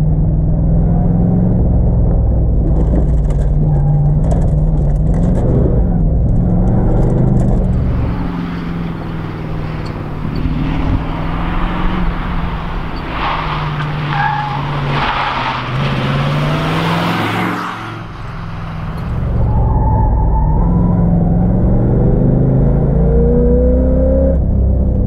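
Camaro IROC-Z V8 engine and tires on an autocross course, close and loud, revving up and down through gears with throttle lifts and tire squeal, continuous for the full run.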